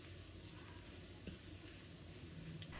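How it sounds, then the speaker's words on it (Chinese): Scallion, ginger, garlic and dried tangerine peel sizzle steadily in a wok while being stir-fried for a duck dish, a soft continuous crackle with a few faint clinks of the spatula. "炒出葱、姜、蒜的香味后，再把陈皮放进来，继续翻炒一下。"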